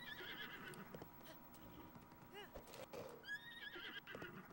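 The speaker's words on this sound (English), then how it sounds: "I'm surprised my horse is climbing right now." Horse neighing with hoof clip-clop in the video game Zelda: Breath of the Wild, a whinny rising and falling over steady game ambience, with a person talking over it.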